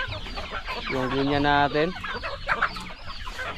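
Farm chickens cluck in a busy yard where chicks are kept, and a rooster's crow swells up close in the middle, with someone speaking briefly over the birds.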